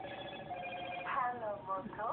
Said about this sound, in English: My phone's restarting.